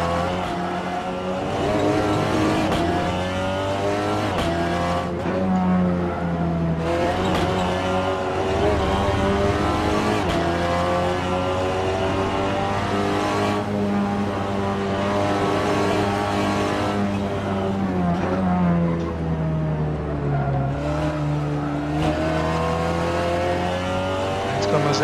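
A Seat Leon TCR race car in Assetto Corsa at Brands Hatch Indy, its engine droning loud and continuous with rising and falling revs and repeated gear shifts breaking the pitch.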